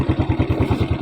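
A motor keeps running by a canal in an oil-palm plantation during a fishing trip, its low, even chugging pulses repeating rapidly and close by.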